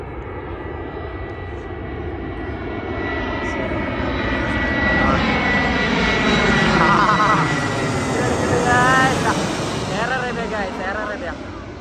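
Airplane flying low overhead and coming in to land on a runway, a loud engine roar that swells and fades over several seconds, with people talking underneath.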